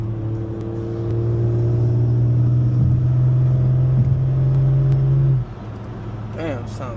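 A car fitted with a 6870 turbo revving hard, a loud steady drone building as the turbo spools, then the note drops abruptly and a fluttering whoosh follows as the throttle lifts.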